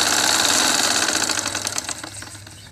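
A household sewing machine stitches the seams of a suit at home, its rapid mechanical whir running steadily and close, then tapering and becoming more irregular as the stitching slows near the end.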